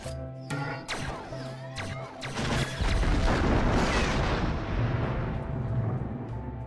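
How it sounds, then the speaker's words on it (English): A powerful laser blast from the robot Eve in Wall-E strikes and destroys an old abandoned ship, starting with sharp zaps and building into a loud, rumbling explosion with crackling debris that lingers and fades. "she uses her powerful laser to destroy an old abandoned ship"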